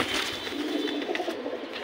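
Pigeon cooing, a soft, continuous low murmur close by with steady loudness throughout, heard on its own with no talking.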